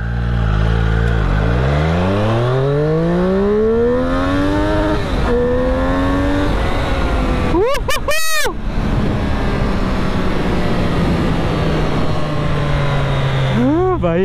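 A Triumph Street Triple R motorcycle engine revs up through first gear, its pitch climbing steadily and loudly before a brief shift and sharp burst, then settling into a steady drone at close range.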